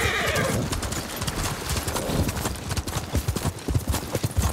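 Horses gallop across open ground in Ghost of Tsushima, with loud, rapid, rhythmic hoofbeats filling the scene and whinnies mixed in.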